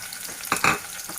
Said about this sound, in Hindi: अभी प्याज स्लोली फ्राई हो रहा है।